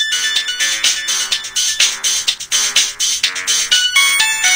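A loud, bright electronic ringtone from a phone receiving an incoming call plays continuously, its looping melodic chimes pulsing in a steady rhythm with nothing else heard.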